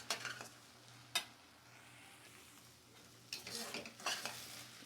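Okra (bhindi) frying in a pan for a palya, with a few sharp scraping stirs separated by quieter stretches of soft, low sizzling, heard up close.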